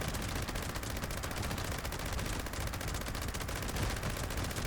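Gauss minigun in the Fallout 76 video game firing a sustained rapid stream of shots, a dense unbroken rattle that holds at an even volume throughout with no talking over it.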